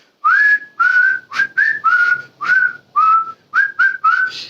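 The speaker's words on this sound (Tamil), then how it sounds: "கிரவுண்ட்ல பேக்கெட்டுக்குள்ள கையை விட்டு தலைவன் பாட்டுக்கு விசில் அடிச்சுக்கிட்டே இருந்தான்" A person whistles a tune in a cricket stadium crowd: a run of about eleven clear, rising and held notes in short phrases with brief pauses between them, close and alone.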